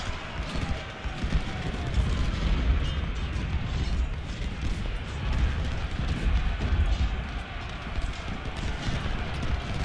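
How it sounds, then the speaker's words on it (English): Cannon artillery fire in the Civil War video game Ultimate General: Civil War at the Battle of Shiloh: dense, continuous rumbling booms and battle noise that fill the whole stretch at steady loudness. "We gotta get those cannons off the field."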